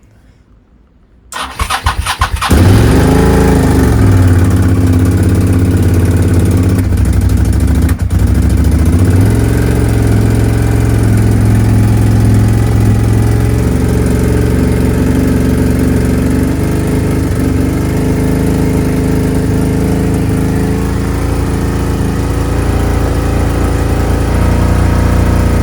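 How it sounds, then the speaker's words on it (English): A Suzuki SV650S motorcycle engine cranks and fires up on choke, then settles into a loud, steady, close idle that runs on without a break. "Bike is running good."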